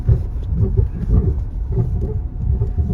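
A vehicle towing a trailer loaded with soybeans drives onto a good road, giving a steady, loud low engine rumble with a faint rhythmic throb and no talking.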